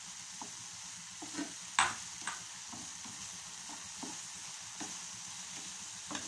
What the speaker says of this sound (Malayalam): ഇട്ട് നന്നായിട്ട് ഇളക്കി കൊടുക്കുക.